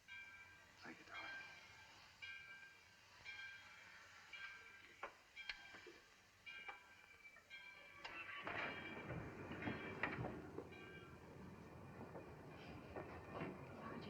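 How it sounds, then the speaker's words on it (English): A train gets underway with rhythmic clickety-clack of wheels on rails and the rumble of railroad cars, growing louder and denser partway through, with voices talking over it. "the train's moving."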